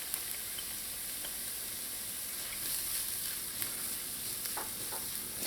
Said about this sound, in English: Now I'm going to go in with some finely minced garlic.